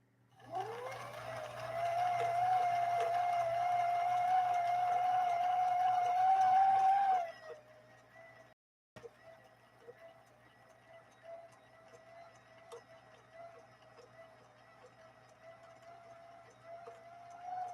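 Vintage Swedish sewing machine motor whirring at a steady high pitch for several seconds, then dropping sharply as it is slowed and held back, a softer labored hum continuing afterward with a brief click between.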